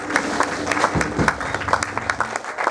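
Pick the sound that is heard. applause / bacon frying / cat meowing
applause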